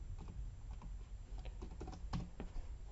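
Steady bursts of keystrokes on a computer keyboard while code for a Unity jump animation is typed, quick clicky taps close up with brief gaps, no voice.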